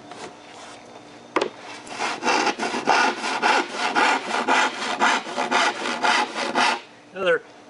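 A hand saw cuts plywood on a sawhorse in quick, even back-and-forth strokes, about a dozen rasping pulls in steady rhythm, close and clear, followed by a brief spoken remark.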